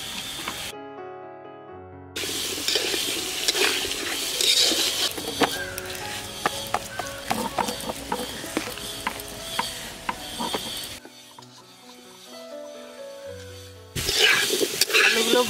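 Potatoes frying in a pan during a Bengali ol-and-dal dhoka recipe, a steady sizzle with stirring and clinks of utensils, broken by a few quiet gaps.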